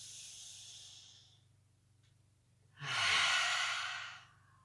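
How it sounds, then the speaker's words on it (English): A deep breath drawn in during a gentle, fully seated exercise class, heard as one long airy inhale rising loud and breathy after a soft earlier exhale, with a low steady hum beneath. "Big breath in."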